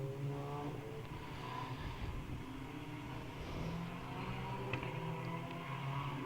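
Race cars at full speed on the Snetterton circuit in an endurance race, with a Nissan running close behind another car, their engines a steady, continuous roar throughout.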